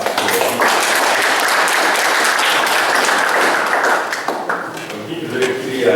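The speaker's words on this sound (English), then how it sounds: "I once again want to ask you to give her a very big clap." An audience at a PhD public defense applauds, dense sustained clapping from a sizeable room that fades slightly near the end.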